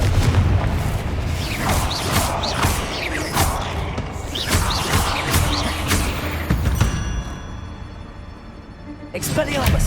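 Confringo fire spell blasts from Hogwarts Legacy, heard as repeated heavy booming bursts over a dense, loud game soundscape, with the spoken spell names of a player's voice running through the clip before the noise drops away near the end.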